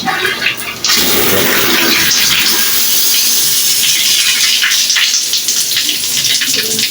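A shower runs steadily, a full hiss of spraying water that switches on abruptly and then keeps a constant, close rush.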